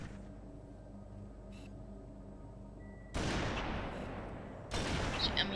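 Two loud, sharp gunfire bursts in Halo 3 ODST, about a second and a half apart, breaking through a quiet hum of game ambience.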